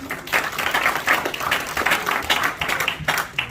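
Audience applause at a fundraising night for a comic-evangelism project, a moderate, uneven patter of many hands clapping continuously in a hall.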